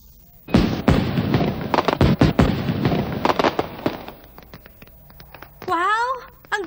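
Homemade firecrackers and fireworks made by a family fireworks business go off in a rapid crackling burst of loud pops, then scattered snaps, followed by a whistling firework; voices are heard briefly.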